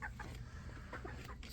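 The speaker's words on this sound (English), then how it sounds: "Crazy chickens." Backyard chickens cluck in a quick, soft series of short calls, close by and fairly quiet over low background noise, with no talking.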